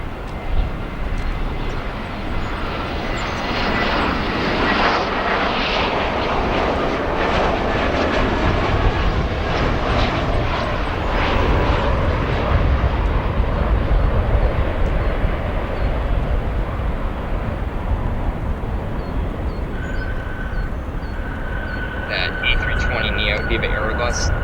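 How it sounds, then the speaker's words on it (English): A Viva Aerobus airliner lands at O'Hare International Airport, its steady jet roar sustained and fairly loud for the whole stretch, with faint background noise and a few higher tones near the end. "Viva Aerobus landing."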